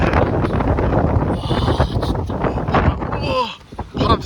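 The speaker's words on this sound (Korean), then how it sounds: "바람 진짜 장난이 날아갈 뻔했어 진짜." Strong wind buffets the microphone outdoors in Tokyo with a continuous rough roar and gusty surges, while people talk over it.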